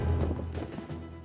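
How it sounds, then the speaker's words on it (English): Horse hooves in a Spanish jineta-style cavalry riding display, a steady clip-clop of several close, fairly loud strikes over about a second, carrying on with no voices. "This is how the conquistadors would have ridden their horses."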